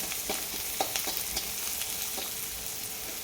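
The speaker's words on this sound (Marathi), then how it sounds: "तर चला, आता हे मिश्रण एकदम असं छान असं परतून देऊ आपण" Mustard seeds, cumin and turmeric frying in hot oil with onion, a dense continuous sizzle close up with small pops and light stirring ticks throughout.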